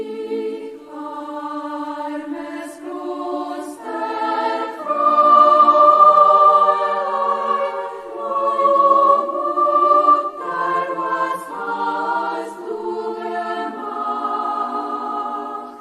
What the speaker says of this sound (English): It's a piece by Robert Schumann, Klosterfräulein, Opus 69. It's a beautiful a cappella piece and it sounds like this.